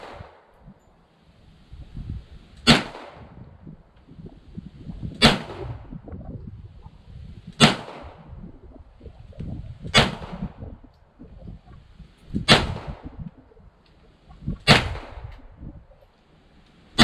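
Six sharp, evenly spaced gunshots from a Ruger Mark IV pistol firing Federal 40 grain lead round nose rounds at a target range, each crack loud and close with quiet gaps of about two seconds between.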